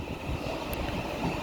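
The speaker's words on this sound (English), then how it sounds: "It is a non-stopping Thameslink train." A non-stopping, not-in-service Thameslink Desiro City electric train passes through London Blackfriars station, giving a steady, fairly loud rumble with a constant wheel and motor roar throughout and no voices.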